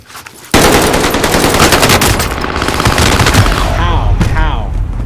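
Rapid automatic gunfire from a Warzone video game firefight, a sustained loud burst of shots running almost the whole time after a short quiet start, with a voice briefly audible near the end.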